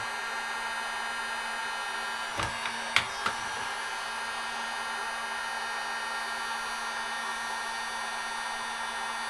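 A steady blowing roar from a heat source warms the engine cylinder of a Honda Fatcat to free stuck piston rings, with a few sharp knocks midway and no talk.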